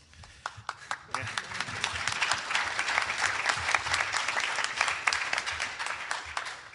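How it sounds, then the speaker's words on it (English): Sustained audience applause at the closing remarks of a conference session, many hands clapping densely and steadily for several seconds, swelling after a brief quieter start. "thank you to everybody has clapped already"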